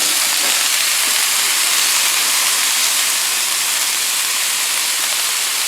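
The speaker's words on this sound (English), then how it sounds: "I'm going to spray some avocado oil down. My EVO oil sprayer." Continuous airy hiss of avocado oil sprayed from an EVO oil sprayer onto onions and cabbage on a Blackstone E-Series 17-inch electric tabletop griddle, steady and close for several seconds with no voices.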